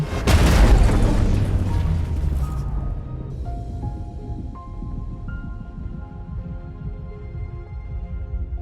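A loud explosive boom as an armored vehicle crashes and explodes, erupting at once, then rumbling and fading into a lingering low roar with faint metallic ringing tones.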